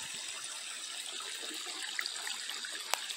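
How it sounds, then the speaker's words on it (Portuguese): Water flowing in a garden that supplies a tank, a steady trickling hiss with a few small splashes and one sharp drip near the end. "essa água aqui que abastecia o nosso tanque que estava aqui atrás."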